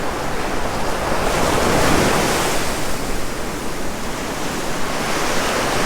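Ocean waves at White Plains Beach on Oahu, Hawaii, a loud, continuous roar of surf washing in with slight swells and some wind, no voices.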